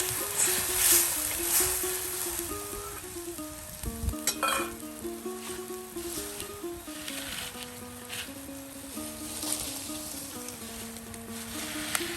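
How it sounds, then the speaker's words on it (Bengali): Spice paste being stir-fried in a pan, a soft continuous sizzle with spatula scrapes under a droning tonal background hum, moderately quiet, with no talk. "মশলা কষানো হয়েছে দাদি প্রায় কষানো হয়ে গেছে"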